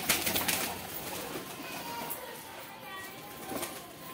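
Pigeons coo softly amid a busy outdoor bed of chirps and rustling, with a person's voice occasionally audible in the background.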